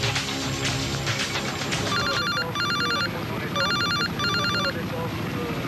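A mobile phone rings in repeated electronic bursts at a desert rally, four clear ringtone pulses over a busy background with voices talking.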